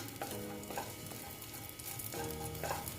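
Dry fruits and raisins fry in a hot pan for carrot payesh, with a steady sizzle and a few scrapes of stirring, close and fairly quiet throughout.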